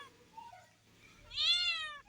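A cat stuck up high meows loudly: a soft, short call first, then a long, rising and falling plaintive meow close by, with no talking.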